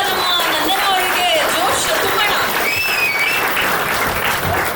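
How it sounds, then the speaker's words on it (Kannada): An audience claps loudly and continuously at a film song launch for Life Of Mrudula. The dense applause fills the whole moment, with faint crowd voices and a few cheers rising above it. "ಚಪ್ಪಾಳೆ ಇನ್ನೊಂದು ಸ್ವಲ್ಪ"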